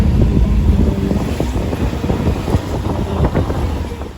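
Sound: wind through open car window

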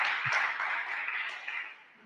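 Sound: audience applause

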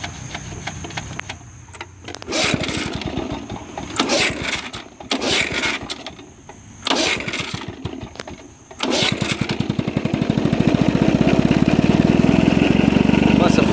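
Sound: 1964 Lawn-Boy 8222 Automower engine starting

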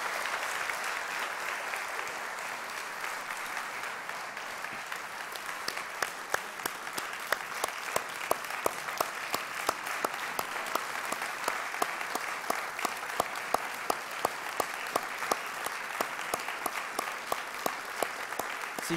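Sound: audience applauding in church

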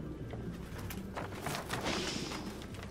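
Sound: birds flapping and cooing, from video game Detroit: Become Human

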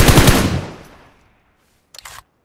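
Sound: machine gun fire in video game PUBG

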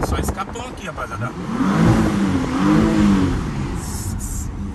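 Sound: Porsche Panamera engine revving with loud turbo

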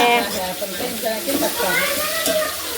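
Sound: chopped garlic sizzling in hot oil for suji pasta

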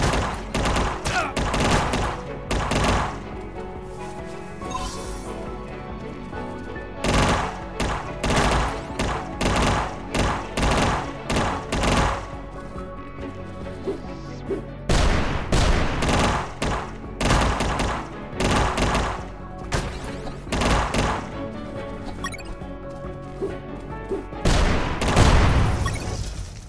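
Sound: machine gun fire in video game UnMetal boss battle

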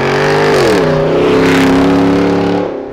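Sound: 1999 Plymouth Prowler with Corsa Extreme exhaust revving

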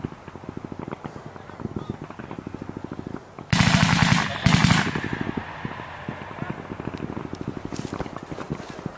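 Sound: gunfire on a battlefield

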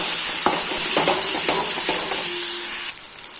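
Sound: garlic paste being sautéed in a pan

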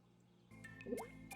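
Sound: homebrew mash bubbling in bucket, video game My Summer Car

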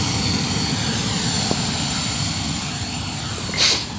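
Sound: Lion Parcel airplane landing at airport

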